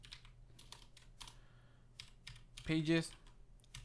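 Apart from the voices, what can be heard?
typing on a computer keyboard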